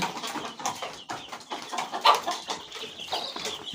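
Many chicks, about one to two weeks old and in a brooder, peep and cluck together in a busy, continuous chorus, close by, with soft rustling underneath.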